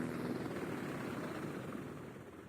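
An aircraft engine in the flight game Project Flight, a steady loud droning rumble with a hum running through it that fades slightly toward the end, no talking.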